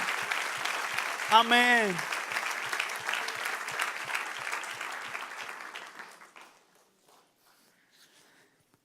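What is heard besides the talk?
congregation applause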